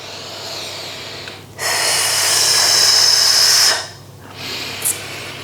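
During a morning strength and mobility workout, one loud, close breath rushes out for about two seconds, then a shorter, softer breath follows after a pause.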